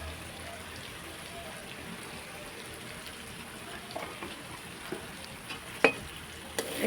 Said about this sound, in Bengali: তো মশলাটা আমি কষিয়ে ফেলেছি